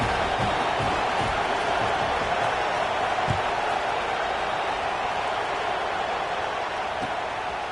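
A football stadium crowd at a Michigan versus Oklahoma game waits before kickoff, making a steady, dense roar and murmur that holds at an even level throughout without clear cheers.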